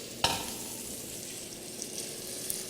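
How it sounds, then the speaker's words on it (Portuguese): Onion sautéing in a pan for risotto, a soft steady sizzle with a sharp clink of a utensil near the start and small stirring noises, fairly quiet and close. "Essa cebola vai refogar por alguns instantes."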